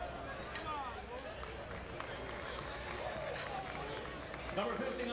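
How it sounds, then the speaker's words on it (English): Excited stadium crowd at a Richmond vs Somerset baseball game, a steady wash of distant cheering and murmuring chatter that swells slightly near the end. "You can hear the crowd. They're excited to see him."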